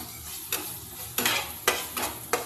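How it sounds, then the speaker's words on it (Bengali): Onion stirred and frying in a pan for chicken soup, with a steady sizzle broken by four sharp scraping stirs of the spoon at uneven intervals, close and clear, no talk. "স্যুপটা বানানোর জন্য আমি ভালো করে এটা নেড়ে চেড়ে নেবো কষিয়ে"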